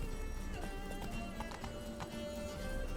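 Hoofbeats of Geralt's horse Roach galloping in The Witcher, a steady rhythmic clip-clop over a busy game soundtrack with a held musical tone, moderately loud and continuous.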